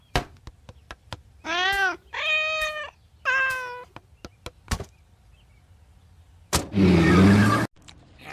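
A kitten meows three times in clear, drawn-out cries, with sharp clicks and knocks between them and a harsher, noisier burst near the end.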